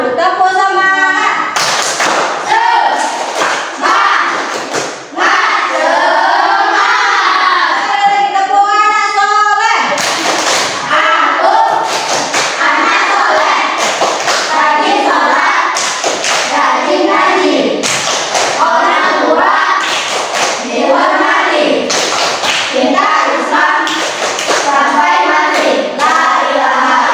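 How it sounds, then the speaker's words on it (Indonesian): A school class claps out a rhythmic cheer together, bursts of sharp, patterned hand claps and thumps in repeating sequences over about half a minute, mixed with children's voices chanting along. "Tepuk semangat dulu. Tepuk semangat."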